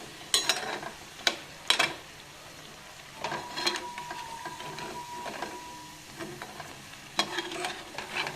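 Dill leaf and lentil fritters (ambode) frying in hot oil: a steady close sizzle broken by sharp clinks and scrapes of stirring, with no voices.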